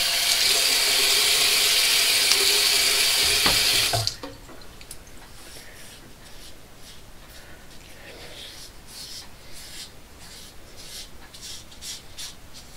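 Tap water runs loudly into a bathroom sink during a wet shave with a safety razor and bay rum soap, a steady broadband rush for about four seconds before it shuts off, leaving quiet rubbing and scraping sounds.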